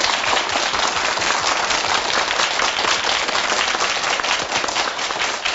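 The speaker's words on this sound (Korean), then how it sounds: "격려의 박수 보내드립니다" Sustained applause from a studio audience on a Korean broadcast talk show, dense steady clapping filling the room at full strength from start to finish with no pause.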